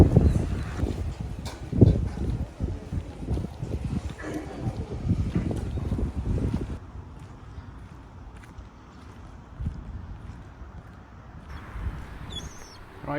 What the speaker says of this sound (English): I've got the mic on because it's windy